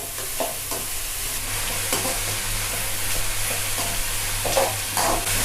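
Sliced onions frying in a pan for prawn sambal, stirred with a spoon: a steady sizzle with intermittent scraping strokes, close and fairly loud, no voices.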